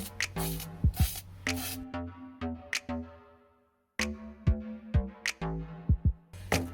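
A spray paint can sprays old weights in short tapped bursts: a series of brief, close hisses separated by pauses, with no talking.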